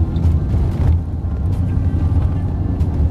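A car drives along with a steady low engine and road rumble, close and continuous, with no clear talk over it.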